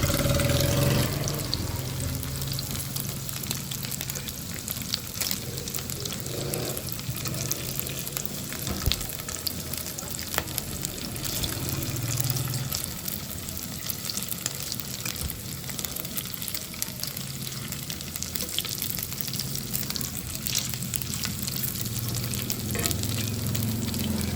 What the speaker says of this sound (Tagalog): Saka natin siya igisa. Igisa natin.